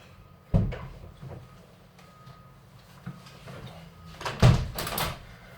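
An indoor door at home is shut, giving a sharp thud early on, a lighter knock midway and a louder double clunk near the end, in an otherwise quiet room.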